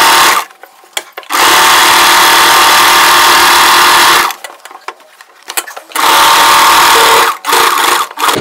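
Sewing machine stitching a frill neck on a layered chudidar, running in loud steady bursts broken by short pauses as the needle stops and the fabric is turned.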